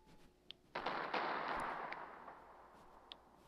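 A Tsar Bomba nuke detonates in the Worldbox god simulator game: a sudden broad blast rumbles and then slowly fades over several seconds, with a couple of small sharp pops before and after.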